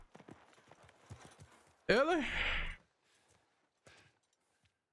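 Horse hooves clip-clop in The Last of Us Part II, a quick run of light steps under a streamer's talk before a sharp, loud whinny-like burst in the middle, then quieter scattered sounds.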